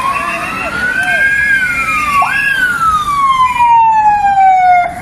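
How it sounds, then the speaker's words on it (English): Emergency vehicle sirens in Italy wail through a street, rising and falling in long sweeping tones with a second siren overlapping, fairly loud and continuous over a low rumble of traffic. "The sirens never stop."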